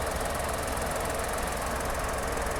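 A new 2023 Maruti Alto K10 VXi Plus petrol car idles with its engine running, giving a steady, even hum and faint ticking that holds constant and close, with no talking.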